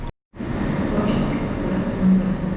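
A steady low rumble of a fast train in Poland heard from inside a first-class carriage, continuous and moderately loud after a brief silence.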